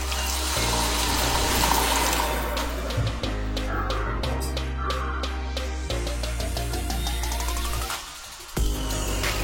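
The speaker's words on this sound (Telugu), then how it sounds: "ఇందులో కొద్దిగా వాటర్ యాడ్ చేసుకోండి." Water added to a squid curry in a pan, a loud continuous pour and bubbling close up over a steady background hum, with no voices.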